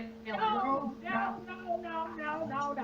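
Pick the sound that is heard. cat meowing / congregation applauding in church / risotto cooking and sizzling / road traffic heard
cat meowing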